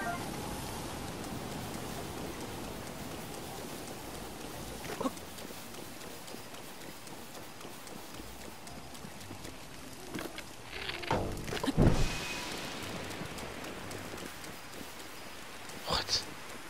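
Steady hissing rainfall in the video game The Legend of Zelda: Breath of the Wild keeps up throughout, with a few brief sharp knocks and thumps rising above the constant wash of falling drops.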